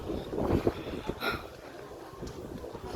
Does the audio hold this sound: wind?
yes